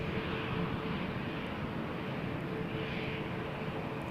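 A WestJet Boeing 737 MAX 8 airliner at Toronto Pearson airport gives off a faint, distant, steady jet roar, an even wash of engine noise with no clear peaks.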